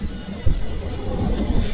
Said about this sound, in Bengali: বাইরে বৃষ্টির শব্দ বাতাসে জানলা থরথর করে কাঁপছে